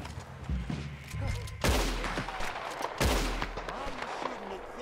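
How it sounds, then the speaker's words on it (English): Gunfire in Red Dead Redemption 2: two sharp, loud shots about a second and a half apart, each ringing off over a low, busy game soundscape. "Why are you shooting at thin air?"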